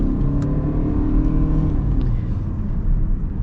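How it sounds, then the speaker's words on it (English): A 2023 Ford Escape Hybrid accelerating, a steady loud engine and road drone heard from inside the cabin, even and continuous with no talk. "Let's see what the acceleration's like."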